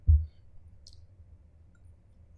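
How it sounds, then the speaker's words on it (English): A single computer mouse click, close and crisp at the start, followed by near silence with a faint tick and a low background hum. "I think you can hear the clicking sound, and let's just say I click my mouse once"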